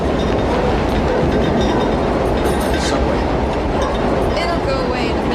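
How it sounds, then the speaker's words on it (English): A train passes on nearby railroad tracks, a loud continuous rumble with wheel clatter that fills the whole stretch without letting up. "There's a train that goes around."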